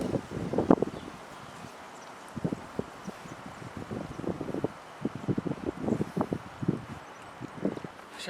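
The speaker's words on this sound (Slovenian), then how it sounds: "pa grem pa dan, ker imam tegale vetra danes že dost" Gusty wind buffeting a microphone outdoors at a fishing lake, coming in repeated rough bursts of rumbling low-frequency noise, loud and close, with no talking.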